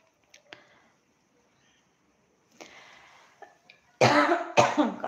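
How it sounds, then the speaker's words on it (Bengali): Several coughs during a casual Bengali live stream: two faint, sharp coughs early, a quiet pause, then a few more soft ones, ending in two loud, close, harsh coughing bursts. "কাশিটা আবার কোত্থেকে এলো হঠাৎ করে?"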